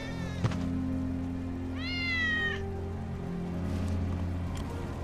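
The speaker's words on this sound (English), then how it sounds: "That's Wedge's cat." A single drawn-out meow from Wedge's cat in Final Fantasy VII Remake rises clearly over a constant low hum of game ambience and music, with a soft tap just before it.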